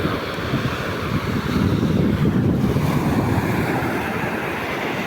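Autumn sea surf washing steadily onto a clean shore on a calm day, a continuous loud wash of breaking waves with wind buffeting the microphone throughout.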